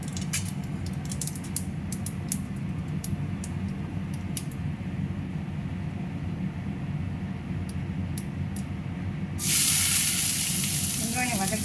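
Onions sautéing in a pan for tatta paniyaram, a steady close sizzle and frying hiss that continues throughout, with a brief louder spray of sizzling near the end.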